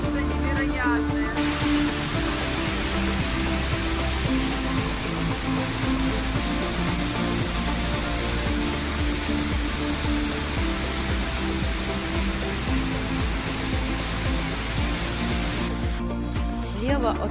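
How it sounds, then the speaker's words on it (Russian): The town waterfall at Bad Gastein, Austria, roars as a loud, steady, dense rush of water that fills the whole scene without a break. "Водопад, который мне пригрезился и который реально сбылся. Посмотрите, какая мощь."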